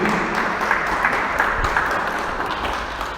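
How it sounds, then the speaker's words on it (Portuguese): A church congregation applauds with dense, steady clapping from start to finish, loud and close, with no break. "Vamos aplaudir a palavra de Deus,"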